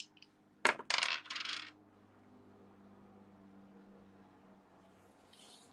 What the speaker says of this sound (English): I had a dice spinning.